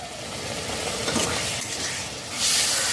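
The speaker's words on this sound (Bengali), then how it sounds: "হাই ফ্লেমে মশলা দু মিনিট কষিয়ে নেব" Spice paste of turmeric, cumin-coriander powder and Kashmiri chili loosened with hot water sizzles loudly on high flame for a shole fish and radish curry, a steady frying hiss with a stir midway and a louder surge near the end.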